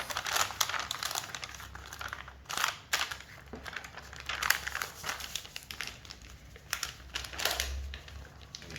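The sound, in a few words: paper sewing pattern being folded at the dart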